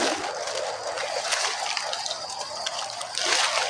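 River water rushing steadily through a forest setting, a continuous broadband gush that stays fairly loud and even throughout, swelling slightly near the end.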